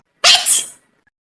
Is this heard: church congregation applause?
no